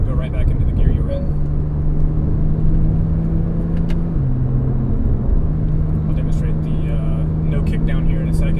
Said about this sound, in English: You just pull both, car drops out of gear, and then when you release, it'll rev match and go right back into the gear you're in.